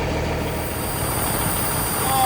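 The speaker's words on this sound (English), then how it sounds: "the air leaks just don't stop today" Steady broadband hiss of an air leak on a semi truck, continuous and fairly loud throughout with a slight swell near the end, no talking.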